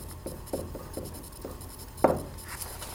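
A pencil scratches across paper in short quick strokes, faint scraping taps spaced irregularly with one sharper, louder stroke near the end, close up and alone.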